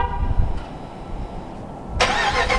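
A Bugatti Veyron's engine fires on a cold start after a short stretch of low rumbling. It bursts into a loud, sudden roar near the end, with no talk.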